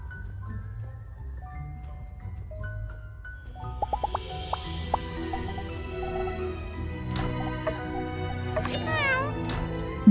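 Several cats in the My Time at Sandrock video game give short meows over a steady game music bed, with a few brief clicks of interface sounds along the way.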